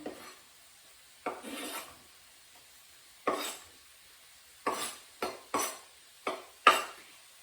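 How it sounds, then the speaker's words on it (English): Red pepper and garlic tipped into a pan of softening onions for a paella, heard as several short scraping, rasping stirs of a utensil against the pan, spaced out and fairly close, with no voices. "I'm going to add the red pepper and garlic."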